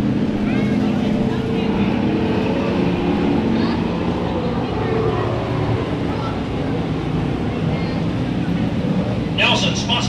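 American stock cars pull out for a heat race at Ocean Speedway, a steady broad engine roar filling the track under an announcer's voice throughout.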